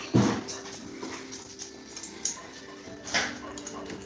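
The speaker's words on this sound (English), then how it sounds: "They're barking because another dog was barking." Household dogs bark at someone passing the house, set off by another dog; a few short, fairly quiet barks and a faint whimper spaced out over a hushed indoor background.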